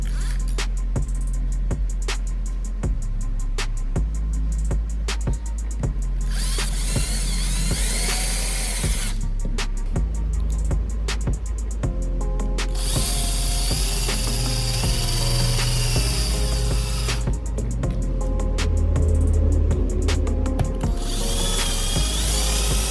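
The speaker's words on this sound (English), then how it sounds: "I drilled screws into the marked positions on the wooden board." A power drill drives screws into a wooden board, with several long, loud whirring runs that change pitch, broken by brief pauses and close handling noise, and no voices throughout.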